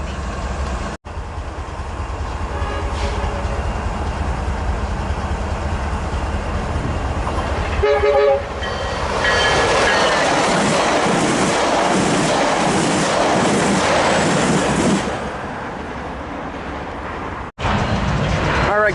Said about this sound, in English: 622, southbound service to Laguna Niguel, Mission Viejo, we have F125, 938 leading, and cab car